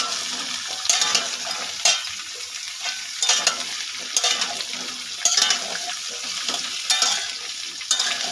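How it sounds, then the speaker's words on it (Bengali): Cut potatoes fry in a pan for Bengali white potato curry, a steady sizzle broken by regular scraping stirs of a utensil against the pan about once a second, close and without talk. "ভালো করে একটু হালকা ভেজে নেব।"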